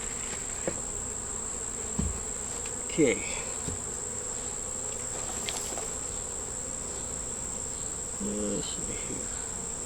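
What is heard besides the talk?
honey bees buzzing in an open hive feeder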